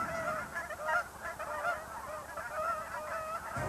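A flock of geese honking repeatedly in flight in spring in Alaska, many overlapping calls, loud and fairly close, continuing without pause.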